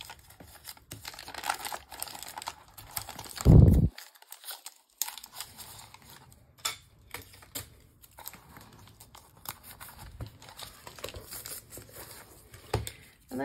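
Tape being handled while paper is stuck down in a repurposed thrift store journal: soft crinkles and rustles with one loud tearing pull of tape, close and quiet.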